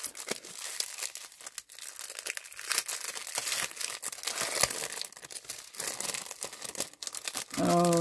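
Wrapping and packaging crinkling and tearing as a Christmas swap package of craft dies is opened by hand, with close, continuous rustling and crackling bursts and no talking.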